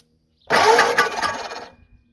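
A 59AB Ford flathead engine cranks over with a loud, rough whirring burst of about a second and a quarter, its fan adding a rushing whir before it stops, close by and with no talk.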